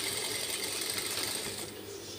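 A sewing machine stitches fabric for a tailoring piece with a continuous fast mechanical whir and clatter, close and even in level throughout, with no talking.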